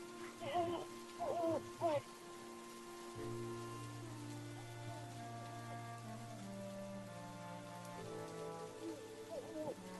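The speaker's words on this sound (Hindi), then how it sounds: "लेकिन बारिश रुकने का नाम ही नहीं ले रही थी।" Steady rain pours down in a soft, continuous wash through a stormy night, low and even beneath a few brief higher tonal calls early on and near the end.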